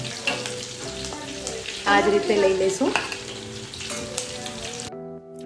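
Capsicum pieces sizzle and crackle in hot oil in a home kitchen while someone speaks briefly over the steady frying; the sound cuts off abruptly near the end.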